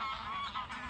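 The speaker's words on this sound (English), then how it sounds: "Geese are leaving the lake for the night." Geese honking as they leave a lake for the night, a dense chorus of overlapping honks heard from a fishing camp at a moderate distance.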